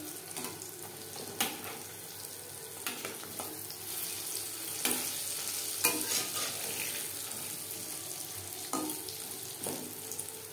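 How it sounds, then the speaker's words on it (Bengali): Boondi made from chickpea-flour batter fries in hot oil for motichoor laddu, giving a soft, continuous sizzle broken by occasional stirring scrapes and clinks, fairly quiet and close, with no talking. "একটা সাইড ভাজা হয়ে গেলে অপর সাইডটা উল্টে দেব"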